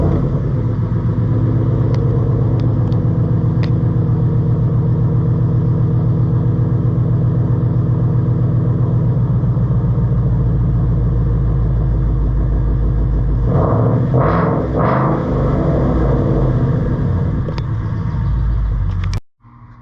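A 2014 Ford Mustang GT with the 5.0 V8 idles loud and close in a steady deep rumble. Near the end the revs rise briefly before the engine shuts off abruptly.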